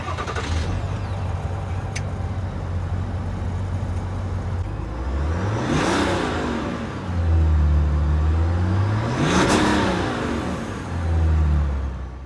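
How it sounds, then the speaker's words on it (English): A 2021 Cadillac Escalade with a Duramax diesel engine idles steadily, then revs up twice in rising and falling sweeps before settling back, loud and close with no talking. "let's start up the Escalade and see how the Duramax diesel engine sounds"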